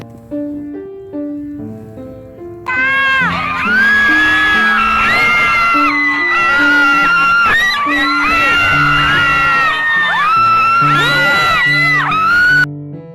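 Fans and supporters of actress Kim Chiu scream, whoop and cheer at the Pasayahan Festival in Lucena, Quezon, a loud, sustained crowd roar that bursts in after soft musical notes and stays dense to the end.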